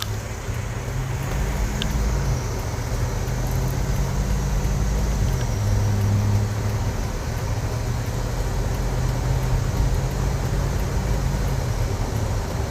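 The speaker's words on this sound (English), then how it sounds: "Take it for a little test drive." A 2018 Chevy 4500 LCF gas stake body flatbed truck is on a test drive. A steady engine drone and road rumble carry on unbroken from inside the cab, with no voices.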